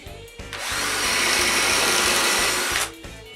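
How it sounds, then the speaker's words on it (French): A power drill bores a dowel hole in wood with one continuous high-pitched whine lasting about two seconds, loud and close, with brief motor bursts before and after. "Je perce des trous pour des goujons sur le dernier morceau derrière le coffre."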